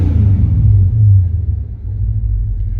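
A 1965 Chrysler 300L engine idles after a timing adjustment, a steady low rumble with a slight throb, close and continuous with no talk.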